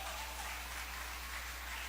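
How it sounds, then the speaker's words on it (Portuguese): Faint, steady clapping from a church congregation applauding during a sermon, heard at a distance over a low constant hum. "Aplaude a Jesus de Nazaré."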